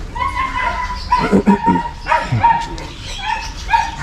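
A dog yips and barks in short, sharp bursts, mixed with whimpering, fairly close, over a faint background hum, at an animal rescue centre.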